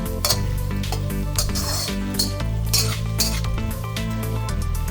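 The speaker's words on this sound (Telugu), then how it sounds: "పచ్చిమిరపకాయ చిలికలు, కరివేపాకు వేసుకుని బాగా కలపండి" Green chillies and curry leaves stirred into chicken frying with onions in a pan, with metal spoon clinks and scrapes against the pan over a steady sizzle, close and fairly loud, under background music.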